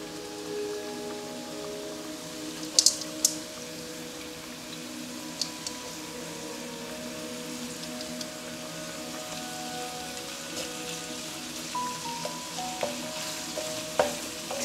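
Sliced carrots and mushrooms fry with meat in a pan for japchae, giving a steady, close sizzle with occasional scraping stirs and small clinks throughout.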